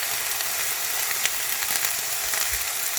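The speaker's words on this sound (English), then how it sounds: "I did add about another tablespoon of oil in the pan and heat it up before I add it in." Cauliflower rice frying in hot oil in a pan for a stir fry, a steady, dense sizzle that continues without a break, close and fairly loud, with no voices over it.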